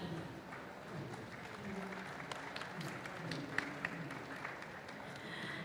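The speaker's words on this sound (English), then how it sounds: "can we get some clap?" Steady, moderately loud applause from an audience at a technical session of an annual conference, a dense patter of many hands lasting several seconds with faint background murmur.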